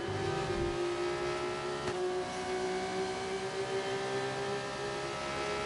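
A Rodden's Motorsport race car drives at speed with a loud, sustained engine whine that holds a steady pitch, heard close and alone.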